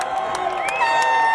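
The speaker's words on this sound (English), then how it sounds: "Listen to that crowd." Crowd at a rugby championship match cheering and whooping in a sustained roar, with a whistle-like tone and raised voices over the steady noise.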